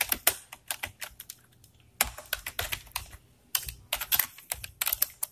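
C++ code is typed on a computer keyboard in quick bursts of close, crisp key clicks, separated by short pauses.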